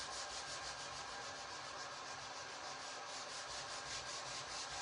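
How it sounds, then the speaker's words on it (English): A power sander works over a wooden cutting board with a slick finish, a steady, loud, continuous rasping whir that holds evenly throughout with no pauses and no voices. "We'll sand it and see how it goes."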